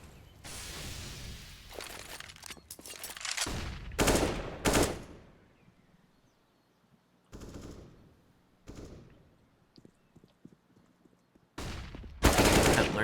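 Gunfire in Counter-Strike on the Inferno map: several sharp bursts and single shots crack out in clusters, loud and close, separated by near-silent gaps, with a heavy final burst.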